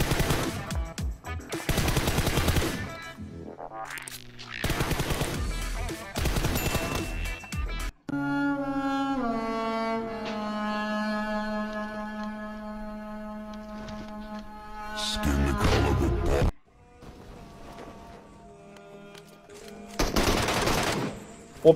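Rapid automatic gunfire from the PUBG Mobile battle royale game comes in several loud bursts, separated by stretches of sustained tonal game music and sound effects.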